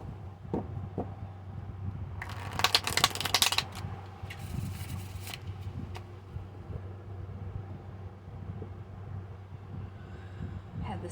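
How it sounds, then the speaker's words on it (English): Steampunk tarot cards being shuffled by hand in a quiet room, a few bursts of riffling paper near the mic over a low steady hum, with no talking. "I'm just going to shuffle these until they feel good."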